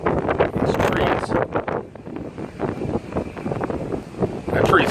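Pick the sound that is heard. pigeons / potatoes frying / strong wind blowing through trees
strong wind blowing through trees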